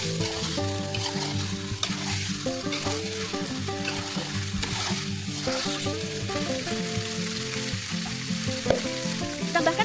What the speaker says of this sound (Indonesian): Lalu diaduk-aduk sampai tercampur semua dengan bumbunya.